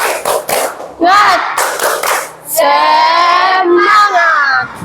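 A seventh-grade class does a rhythmic spirit clap. A few sharp hand claps open it, then loud, close children's voices chant in unison in long sung phrases, with short pauses between them.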